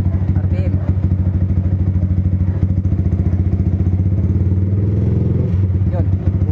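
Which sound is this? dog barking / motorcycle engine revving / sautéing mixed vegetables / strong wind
motorcycle engine revving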